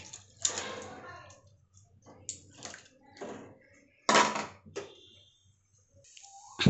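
Red lentils are poured into a bowl of hot water in a home kitchen, heard as a few separate bursts of rattling and splashing with short quiet gaps between them and a louder pour near the end.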